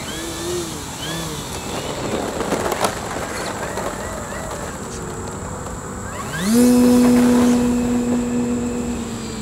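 An E-Flite Carbon-Z Cub SS 2.1 m RC airplane flies over a dirt road. Its electric motor hums faintly, then sharply spools up to a loud, steady whine that holds to the end.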